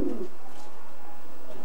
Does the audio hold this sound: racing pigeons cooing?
yes